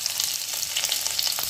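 Ground garlic and coriander with curry leaves fry in a mustard-seed tempering over a low flame for drumstick curry, giving a steady, close, bright sizzle with crackling pops and no voices.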